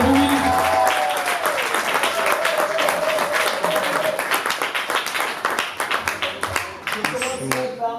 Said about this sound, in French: Veuillez applaudir une fois le plus pour nos mariés